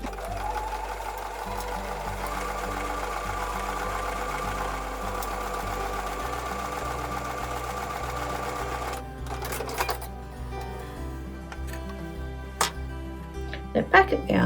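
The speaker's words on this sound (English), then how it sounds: "So back at the sewing machine, we're going to sew a 1/4 inch seam." A sewing machine stitching a quarter-inch seam for a Broken Dishes quilt block, its steady mechanical hum running on continuously, then stopping with a few clicks and handling sounds near the end.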